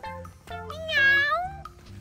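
A cat gives a single clear meow that rises and falls, close and fairly loud, over quiet background with no talking.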